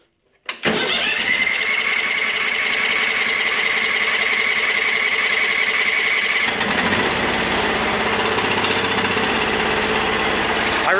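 A Sears Suburban garden tractor engine cranks, catches and settles into a loud, steady, rattling idle, running on without voices after a brief start-up burst.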